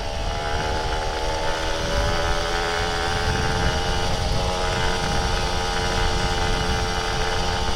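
An older Kawasaki Ninja RR 150 two-stroke motorcycle is ridden uphill on a mountain road, its engine droning loudly and continuously with a buzzy, raspy tone and steady revs, recorded close up.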